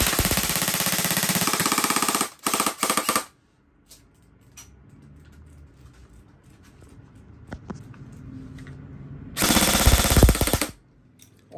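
SRC Falcon airsoft gun firing on full auto in loud, dense bursts: a long burst at the start, a brief one right after, a quiet pause with faint handling, then another loud burst near the end.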